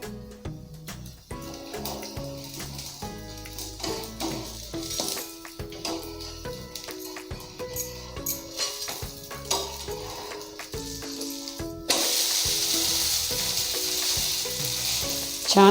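Thalipeeth frying in a little oil in a pan, a steady sizzle running throughout with scraping and clattering, then turning into a louder, denser hiss near the end.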